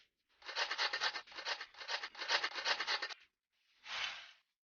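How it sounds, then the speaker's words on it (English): Cheese being grated in the Masha and the Bear pizza maker cooking game, a dry rasping scrape repeated in quick strokes for about three seconds, a pause, then one more short grating stroke. "We need to grate this."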